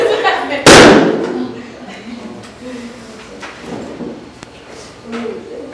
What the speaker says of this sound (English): any volunteers that want to pop one of our balloons?